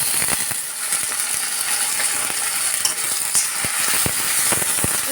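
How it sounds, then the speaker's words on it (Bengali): Ground spice paste of cumin, tomato and onion, with garam masala, sautéing in a pan for a raw jackfruit curry, a steady close hiss and sizzle with scattered clicks of a spatula scraping the pan. "সব বাটা মশলাগুলো দিয়ে আমরা আবার একটু কষিয়ে নিচ্ছি খুব সুন্দর করে"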